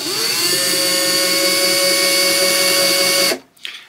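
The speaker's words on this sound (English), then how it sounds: "we're actually going to run the drill backwards so it spins backwards and gets going" A power drill spins in reverse to seat a screw during bridge replacement work on a Gibson B-25 acoustic guitar, a loud steady whine with a high tonal hum lasting about three seconds before it stops abruptly.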